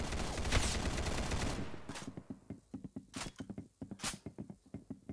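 Gunfire in the video game Arsenal during a one-on-one match, with a dense burst of rapid shots at first, then a string of separate loud shots and thumps.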